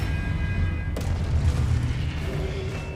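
An Expelliarmus spell is cast in the Hogwarts Legacy video game, landing as a sharp whoosh-boom about a second in, followed by a rumbling low tail with game ambience continuing beneath.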